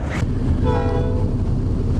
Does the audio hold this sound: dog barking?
no